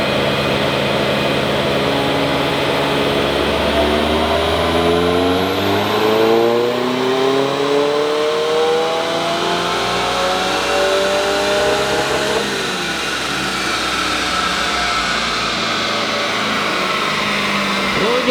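A tuned 2023 Subaru WRX running E30 fuel revs hard on a dyno. Loud engine tones sweep upward in rising harmonics, cut off at the limiter, then climb again, with an intense continuous roar throughout.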